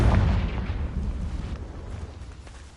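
A Confringo fire spell blast in Hogwarts Legacy, a loud booming explosion with a rumbling tail that gradually fades.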